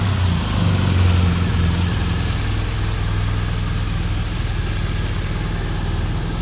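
A 2019 BMW R1200 GSA Rallye motorcycle engine idles close by with a steady, even low rumble and no variation in pace.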